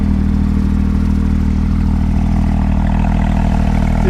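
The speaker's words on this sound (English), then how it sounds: "The exhaust note from the 4-liter opposed 6, naturally aspirated, just sounds menacing" A 2019 Porsche GT3 RS Weissach with a naturally aspirated 4-liter flat-six engine gives a steady, loud, close exhaust drone with a dense low rumble and no variation in tone, heard alone.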